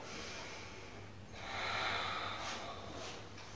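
Quiet breathing during a stretching session: soft, airy inhales and exhales over a low background hum, with a slightly stronger breath in the middle, close and without talk.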